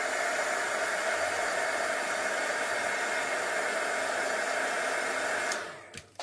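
A hair dryer blows steadily and loudly on a mixed media journal page, a continuous whooshing hum that runs unbroken for over five seconds before cutting off, followed by a couple of faint handling knocks.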